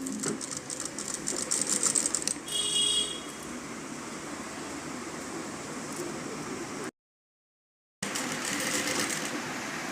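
Sewing machine stitching piping onto a blouse, a steady close whirring run with a brief change in pitch midway, a short break of silence, then the stitching resumes.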